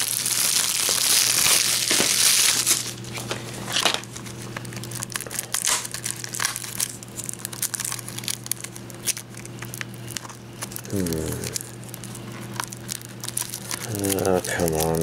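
Plastic shrink-wrap is crinkled and torn off a Hakuoki movie 2 anime DVD case, a loud, close rustling burst at the start that fades into softer crackles, followed by someone speaking briefly.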